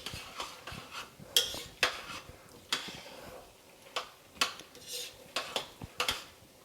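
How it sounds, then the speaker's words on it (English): Seafood stuffing mixture being stirred in a bowl, a spoon clinking and scraping against the sides in irregular sharp knocks, close and fairly quiet, with soft wet mixing in between. "Stir that half a cup in and see how that binds up in the liquid."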